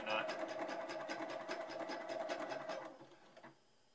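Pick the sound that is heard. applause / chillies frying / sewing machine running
sewing machine running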